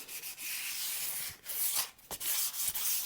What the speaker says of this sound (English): I'm just going to rub down on the transition between the binding and the lacquer, just to clean that all up